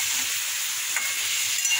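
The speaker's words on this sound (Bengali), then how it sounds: "এবার মশলাটা দিয়ে কষবো, কষিয়ে তারপরে জল দিয়ে দেবো।" Papaya and potato being sautéed with garam masala, turmeric and Kashmiri chilli powder in a pan give a steady, moderately loud sizzling hiss with faint stirring scrapes, no voices throughout.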